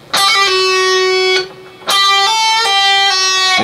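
An electric guitar plays a short lick with a hammer-on, pull-off and slide: a held bright note, a brief dip, then connected legato notes gliding in pitch, close and loud with no talking.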